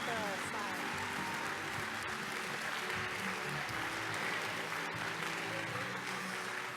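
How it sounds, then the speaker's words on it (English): Audience applause at a conference closing session, a steady wash of clapping from a large crowd that carries on evenly, with voices faintly audible underneath. "let's give them a big round of applause"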